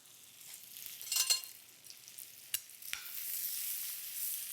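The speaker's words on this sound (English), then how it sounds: "I'm gonna add that on into this cheesy mixture" Wilted spinach stirred into a cheesy ricotta mixture, soft wet scraping and squishing close by, with a couple of sharp utensil taps against the bowl, then a quiet steady hiss.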